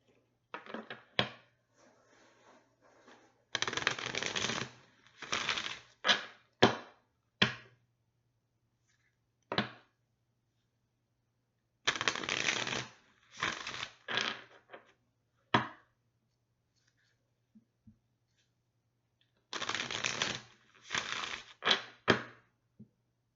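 Large tarot cards are shuffled in repeated short riffling bursts separated by quiet pauses, close and crisp.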